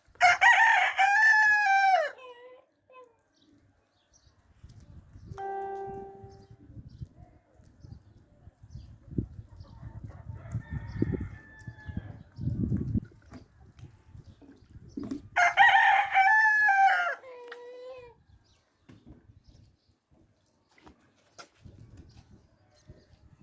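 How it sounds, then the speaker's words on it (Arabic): A rooster crows loudly twice, about fifteen seconds apart, with quieter rustling, clucking and low background noise in between. "الديك بتاعنا رفصح اهو"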